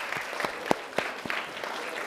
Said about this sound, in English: we'd like to welcome the Spartones, SJSU's premier co-ed a cappella group, to the stage. Let's give them a round of applause